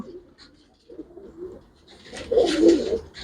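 Pigeons coo in soft, low bursts, a few quiet calls followed by a louder, fuller stretch of cooing near the end, close by with no talk over them.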